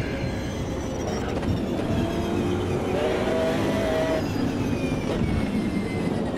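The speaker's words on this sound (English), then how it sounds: "Have the Porsche. It's opening her up a little bit." A Porsche race car in Automobilista 2 powers along, its engine note climbing steadily, with a loud, continuous roar and rumbling road noise throughout.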